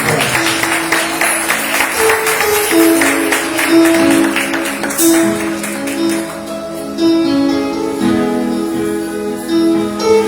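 A church congregation claps during a worship service, with steady rhythmic applause carrying under sustained music tones over about ten seconds.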